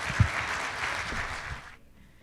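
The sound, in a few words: audience applause for the Rotarians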